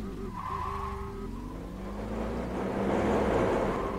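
A compact car in a driving video game slides into oversteer, its tyres squealing in a drawn-out skid over a droning engine that swells louder toward the end, no talking.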